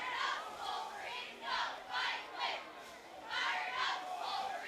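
A high school football crowd in the stands cheers in repeated rhythmic surges, distant and fairly faint, with chanting bursts swelling and fading several times.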